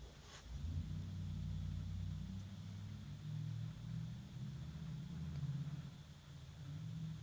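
Low steady rumble inside a parked car fills the background, an engine hum swelling slightly at times with no speech.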